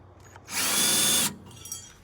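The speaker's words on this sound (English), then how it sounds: "I'm just going to be careful and drill a couple holes" A power drill bores a hole for a trailer plug receptacle mount in one loud, close burst lasting under a second, with quiet room tone before and after.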